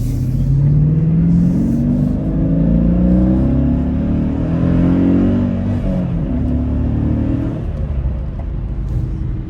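A car at a dealer-only auction pulls away and accelerates, the engine rumbling and rising in pitch through a couple of smooth revving surges before settling back to a steadier cruising hum.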